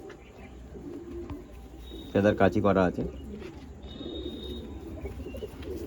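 Domestic pigeons coo in a short burst of loud, close rhythmic calls, set among someone talking and soft background bird sounds.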